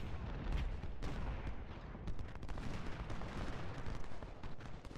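Continuous battle din of Civil War artillery and musketry against entrenched redoubts in Ultimate General: Civil War, Battle of Nashville, with dense overlapping booms and crackling shots filling the whole stretch at a steady, moderate level.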